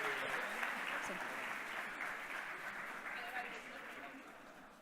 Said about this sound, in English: so really a big applause